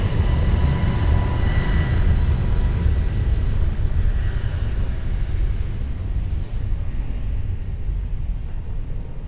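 A jet taking off from runway 20 at Lisbon Airport, a loud, steady broadband engine roar with heavy low rumble that holds throughout and eases only slightly toward the end, with no voices.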